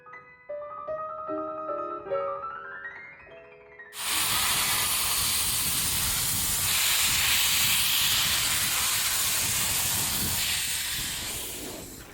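A steam locomotive on the Baie de Somme railway lets out a loud, continuous hiss of steam. It runs for about eight seconds after a short run of music-like tones, and no one talks over it.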